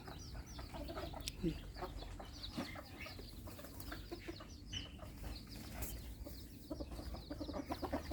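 A flock of chickens clucks and chatters continuously while being given a new, larger pellet feed. The hens are close and layered over steady background noise, with no clear speech.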